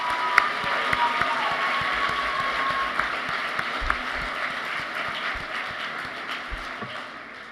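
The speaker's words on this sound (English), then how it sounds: "can we give a round of applause for our parents and sponsors?" An audience applauds parents and sponsors at a Future City event: a dense, steady wash of clapping from a sizable crowd, fairly distant and even, with a few sharper claps poking out.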